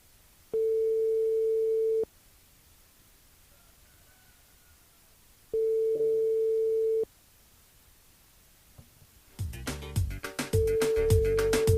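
A telephone line on a French radio call-in show gives two long steady busy-tone beeps with a pause between while a number is redialed, then loud music comes in at the end.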